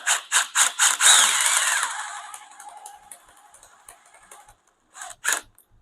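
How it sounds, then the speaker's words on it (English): An impact driver cranks down the clips on a frameless glass shower: several short rattling bursts, a longer whirring run, then a few more brief bursts, close and loud with quiet gaps between. "using the impact, cranking down these clips"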